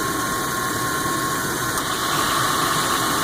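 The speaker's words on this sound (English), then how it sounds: "You can hear the AC the compressor is running." A Chevrolet Suburban runs with its AC compressor engaged, giving a steady, even mechanical hum. A faint high whine sits over a constant idle, with no change through the clip.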